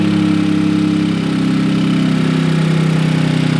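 An all-wheel-drive Toyota GR86 turbo engine idles steadily right after start-up, a loud, close, even rumble with a faint rhythmic pulse and no talking.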